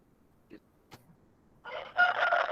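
A rooster crows once, loud and close, after a near-silent stretch broken by a couple of faint clicks.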